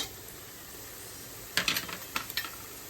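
Onion-garlic masala with turmeric and goda masala sizzles in a pan under a steady frying hiss, with short bursts of stirring and scraping in the second half.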